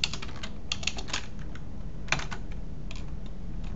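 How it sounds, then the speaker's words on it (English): Someone types a command on a computer keyboard: a run of quick, light key clicks at an uneven rhythm, close and fairly quiet, with no talking over it. "we type the hist command, the name of our data set"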